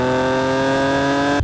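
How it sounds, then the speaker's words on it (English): A high-mileage Italian sports car's exhaust holds a loud steady drone at high revs, close and alone, cutting off abruptly at the end. "Is this a better exhaust note than my V6 MX-5?"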